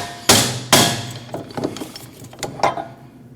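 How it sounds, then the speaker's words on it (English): A hammer strikes a wheel bearing tool on a Jeep Cherokee rear knuckle, with two hard metallic blows followed by a series of lighter, quicker taps, close up in a garage. "you're going to have to hit it with a hammer in this section just to remove it from the knuckle"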